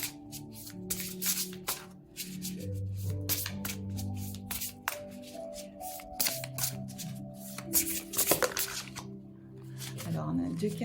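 Tarot or oracle cards are shuffled by hand in a rapid, crisp riffle of soft slaps and flutters, close up, with quiet bits of speech in between.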